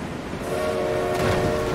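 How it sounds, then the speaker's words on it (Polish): A train approaching in the Forza Horizon 4 racing game sounds a steady, tonal horn over a rumbling rolling noise that grows slightly louder, with no speech. "Jedzie pociąg!"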